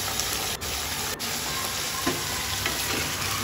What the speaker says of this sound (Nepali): यो चाहिँ म भुट्छु मजाले रातो हुने गरी भुट्छु